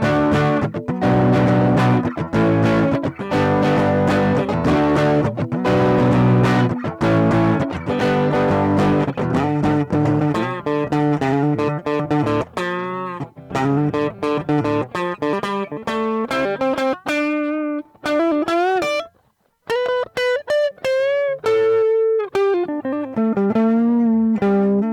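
Electric guitar through a Boss BD-2 Blues Driver overdrive pedal, first driven strummed chords, then sustained single-note lines and bends ringing out alone, with brief gaps of silence.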